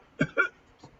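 Two quick, dry coughs from a woman, close and fairly soft, followed by a fainter third short sound a moment later.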